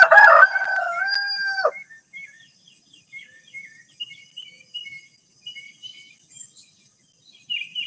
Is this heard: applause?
no